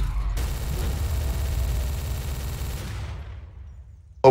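An admin gun fired in the video game Garry's Mod, a dense, rapid burst of shots with a heavy low thump that runs for a few seconds and then cuts off, followed by a sharp hit at the end.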